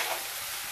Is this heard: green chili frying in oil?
yes